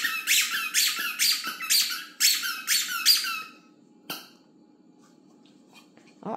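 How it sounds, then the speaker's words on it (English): A squeaky toy squeaks in a quick run of about seven sharp, close squeezes during a dog's play, followed by one lone squeak and then near silence. "Squeaky squeakies."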